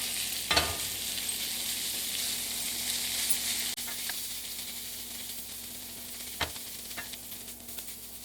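Plant-based ground frying with onions and celery in a skillet, a steady low sizzle and hiss with a few sharp scrapes and clatters of a spoon stirring the pan.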